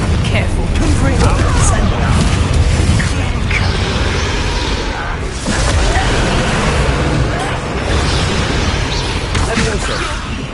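A Confringo spell explodes during a Hogwarts Legacy battle, loud fiery bursts and crackling blasts running continuously through the fight while voices talk over the din.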